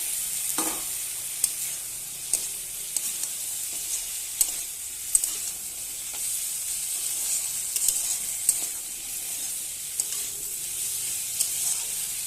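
Pointed gourd and potato pieces tip into a pan of shrimp masala, setting off a steady close sizzle of frying with scattered clicks and scrapes of stirring and no talk.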